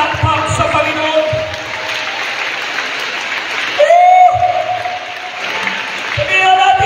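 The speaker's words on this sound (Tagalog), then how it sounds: "dagdagan mo yung palakpak sa Panginoon" A church congregation claps in praise during a sermon, a sustained wash of applause with talk and voices mixed in and a brief lull partway through.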